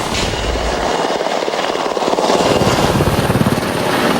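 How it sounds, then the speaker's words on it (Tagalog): Black Hawk military helicopters flying over a joint Filipino and American military exercise, a loud continuous rotor thump and engine roar that swells slightly louder toward the end, with no speech. "Mula sa himpapawid gamit ang mga Black Hawk helicopter"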